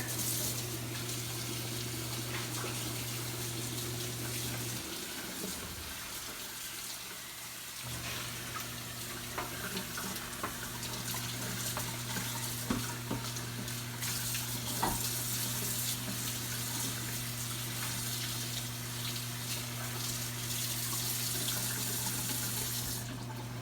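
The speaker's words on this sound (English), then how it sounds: "now we're just gonna run this under hot water" Hot water runs steadily from a tap into a sink, a continuous splashing hiss with a low hum underneath, briefly interrupted and then resuming.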